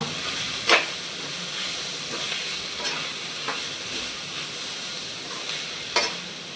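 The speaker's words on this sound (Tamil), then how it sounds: "அது ஒரு 2 பேக்கெட் போட்டாச்சு. கிளறிக்கலாம்." Maggi vegetable masala macaroni gets stirred in a pan, with a soft, steady sizzle and hiss broken by several sharp scrapes and clacks of the spoon against the pan, and no talking.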